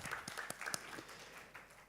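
Scattered hand claps from a small group at an award ceremony, brief and moderately loud, fading out after a couple of seconds.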